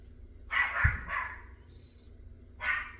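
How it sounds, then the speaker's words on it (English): Small dogs barking indoors in a few sharp, separate bursts, fairly close by, with quiet pauses between them. "And if you hear that barking, the loudest one is the smallest dog."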